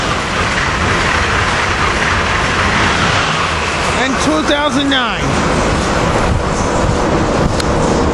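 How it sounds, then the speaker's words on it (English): Amtrak Acela train 2163 with power car 2020 heading south at Cornwells Heights, a loud continuous rumble and rush of a passing train with a brief tonal horn-like sweep midway, while someone talks over it. "Here we got Amtrak Acela train 2163 coming south."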